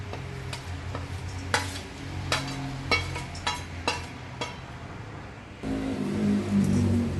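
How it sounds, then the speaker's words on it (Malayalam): Flattened rice sweet with cashews, almonds and raisins stirred in a pan, a series of sharp spoon scrapes and knocks against the metal over a low cooking background, then a louder sizzle at the end. "ഇതെല്ലാം കൂടി നല്ലോണം ഇളക്കി മിക്സ് ചെയ്യാം."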